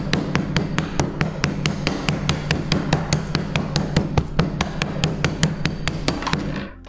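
A metal wrench hammers hard at a coconut in a tiki bar, landing about thirty quick, evenly spaced close strikes in a steady rhythm before stopping.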